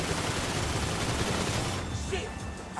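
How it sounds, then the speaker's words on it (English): Rapid gunfire in GTA Online as shots are aimed at a fleeing car's tires, a dense continuous burst of crackling shots that stays loud throughout and thins slightly near the end. "Shooting at their tires"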